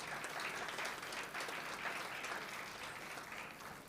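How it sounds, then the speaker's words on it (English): Steady applause from an audience at a sports Ayurveda conference, a continuous even wash of clapping heard at a quiet, distant level. "So I want you to give a round of applause to Dr. Girish Bapat."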